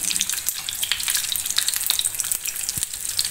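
Bread frying in a generous pool of olive oil for breakfast, a steady close crackling sizzle with fine popping spatters throughout and no voices.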